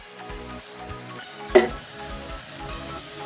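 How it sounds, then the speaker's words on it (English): Chopped banana flower fries in a pan with a soft, steady sizzle, broken by the clink of a spatula against the pan and gentle stirring scrapes, close and fairly quiet. "make sure you fry it for 3 minutes in the same heat"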